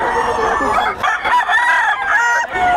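A rooster crows loudly and close among gamecocks at Bocaue in the Philippines, its long strained call overlapping other crowing and clucking birds nearby.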